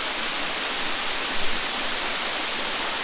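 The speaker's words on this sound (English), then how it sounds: "And this is a nice waterfall." A waterfall in Phuket, Thailand, heard as a steady, close rushing hiss of falling water with no other sounds on top.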